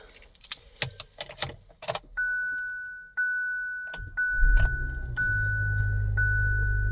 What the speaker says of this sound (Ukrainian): Давайте спробуємо завести автомобіль.